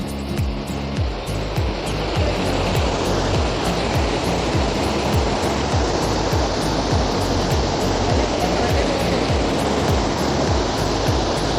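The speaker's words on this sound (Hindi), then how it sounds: "आनंद सागर लेक से ये जो पानी निकलता है तो ये नीचे तक जा रहा है" Lake water spills from the Anand Sagar outflow and rushes downhill in a loud, steady roar, a dense continuous wash heard up close with no voices over it.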